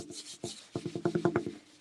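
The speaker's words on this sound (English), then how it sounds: "You just wipe it off." A wet seaweed sponge wipes etching cream off a glass surface, giving quick repeated rubbing and squeaking strokes that speed up into a rhythmic series, close and fairly loud with no talk.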